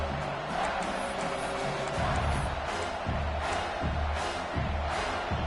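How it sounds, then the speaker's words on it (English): A football stadium crowd roars on a third-down play in the red zone, a dense sustained wall of noise with rhythmic low thumps, loud and continuous throughout. "this crowd is at fever pitch"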